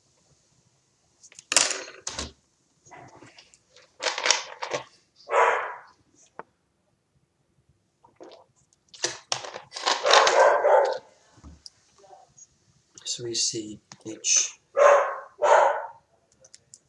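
A dog barks in several bursts from indoors, likely at a mailman outside, the barks coming in clusters separated by quiet gaps, with someone briefly speaking between them.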